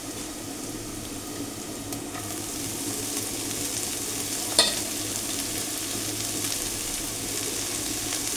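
Radish greens and small stem greens frying in a pan give a steady, close sizzle with a soft bubbling hiss and one brief clink partway through.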